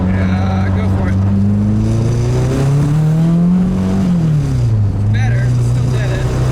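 A turbo K24 engine swapped into a Nissan Cefiro revs loud and close, its droning tone climbing, holding and then dropping back, with a voice talking briefly over it.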